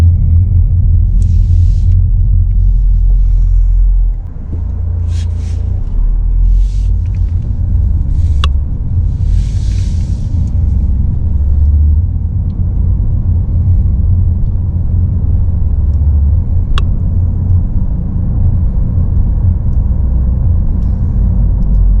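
A car rolls through a small town, its steady low engine and road rumble continuous and close throughout, with a few faint clicks and brief higher hisses over the drone.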